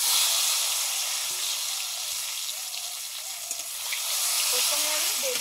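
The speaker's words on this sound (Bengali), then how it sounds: "প্রথমে আমি বেগুনগুলো ভেজে নিচ্ছি।" Tender young eggplant slices fry in hot oil with a steady, even sizzle and hiss that continues throughout, soft and close with no break.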